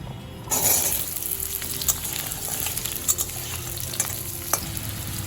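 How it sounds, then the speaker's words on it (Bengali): Loud, steady sizzling of potatoes frying with salt in hot mustard oil, with occasional clinks and stirring scrapes, close up and without talk. "লবণের সাথে আলুটা আমি ভালো করে ভেজে নেব।"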